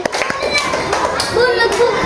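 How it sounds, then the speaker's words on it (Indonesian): Children in a primary school classroom clap briefly for a classmate, with a short burst of hand claps near the start and young voices chattering alongside. "Tepuk tangan untuk Sofian."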